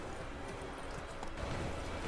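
Horse hooves clip-clopping steadily in Witcher 3: Wild Hunt, a continuous moderate patter of game footsteps with no talk.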